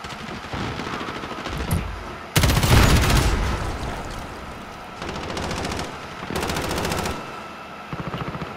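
Heavy automatic gunfire in Modern Warfare, loud and near, in several long rattling bursts separated by short pauses, with no talking over it.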